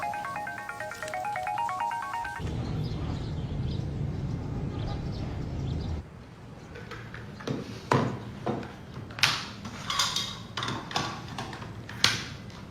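A phone ringtone plays a short, bright melodic tune for about two seconds, then gives way to quiet indoor room noise and a string of soft thumps and taps.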